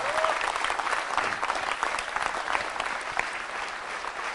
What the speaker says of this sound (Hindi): तालियां तब तक बजा दीजिए इनके लिए जोरदार तरीके से